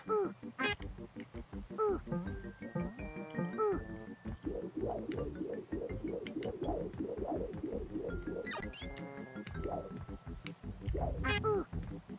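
A cartoonish duck in the SNES game Aaahh!!! Real Monsters quacks repeatedly in short bursts, mixed with game music and other chirpy effects, while someone talks over it.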